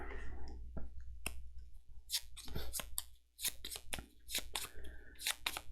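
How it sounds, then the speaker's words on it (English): A deck of major trauma cards for the Aeon Trespass Odyssey board game is shuffled by hand in quick, crisp riffling bursts and card clicks, close and fairly quiet, with no talking. "we have to draw a major trauma card. I should shuffle these."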